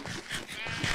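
A sheep bleats in a survival video game, a short wavering cry heard close up over a brief low background.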